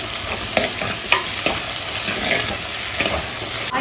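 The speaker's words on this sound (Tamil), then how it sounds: "காய் வந்து இப்போ நல்லா எண்ணெயில் வதங்கிடுச்சு." Eggplant and potato sautéing in oil in a home kitchen, a steady close frying sizzle with occasional stirring scrapes and clicks, no talk.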